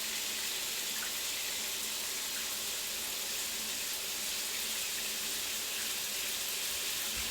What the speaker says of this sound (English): first step, we need a shower, so let's just go ahead and shower.